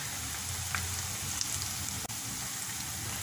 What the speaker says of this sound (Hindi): पकौड़े डालते वक्त आंच को धीमा रखिए ताकि एकदम से बाहर से जल ना जाएं